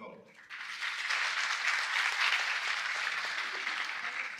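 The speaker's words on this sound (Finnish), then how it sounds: "Taputtakaa, jos teidän mielestä voi olla." An audience at a stand-up comedy show breaks into sustained applause after a brief pause, a dense crackle of clapping that swells quickly and holds steady before easing slightly.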